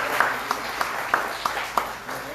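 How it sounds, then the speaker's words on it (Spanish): A church congregation applauds, giving a moderate, even wash of clapping with a few distinct, louder claps standing out at regular intervals, somewhat distant in the room. "Un aplauso al Señor."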